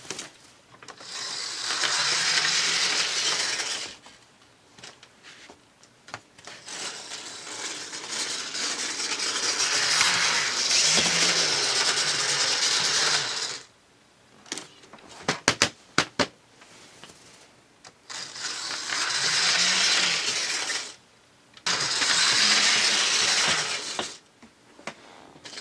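Life-Like toy model train engine running on its track, a buzzing mechanical whir in several long bursts separated by brief pauses and quiet gaps.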